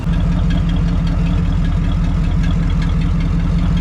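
Engine of a rare military prototype truck runs at a steady, loud, rumbling idle with a throbbing low pulse, close by and continuous throughout.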